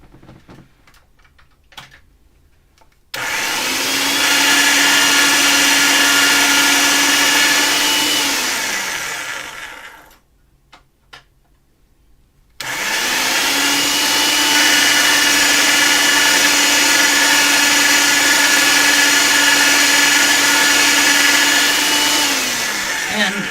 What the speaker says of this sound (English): I'm going to go with it in length through the pasta machine and until I get to the thinnest